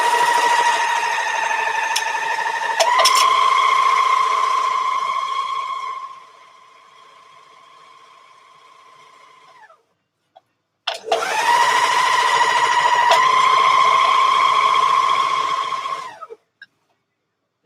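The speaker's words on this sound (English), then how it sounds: "Serging the next side seam." A serger overlock machine stitches a dress side seam in two long runs, a fast, steady mechanical whir close to the ear that drops to a quieter hum, stops, then surges back before cutting off.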